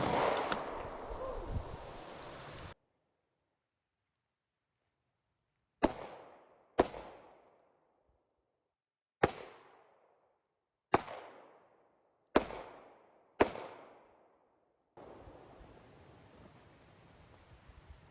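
Six sharp, loud shots from a Smith and Wesson M&P 5.7 pistol, fired from a distance at soda cans, ring out at irregular intervals outdoors with decaying echoes between quiet gaps and light wind.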